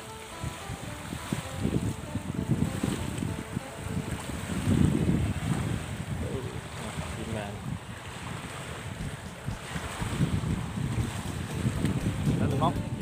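Dry wind gusting by natural water during bottom fishing, a steady rough rush buffeting the microphone with uneven low surges, close and constant over the whole stretch.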